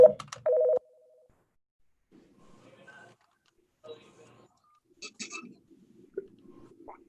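Short burst of telephone keypad dialing tones on a call-in line at a public meeting, loud at the start, followed by faint, muffled voices in the background.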